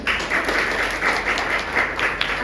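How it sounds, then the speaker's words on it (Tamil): An audience at a church gathering bursts into applause, a brief, steady patter of clapping from many hands with rhythmic swells, loud and close, without voices. "ஸோ ஐ திங்க் அவங்களுக்கு ஒரு பெரிய கைத்தட்டல்."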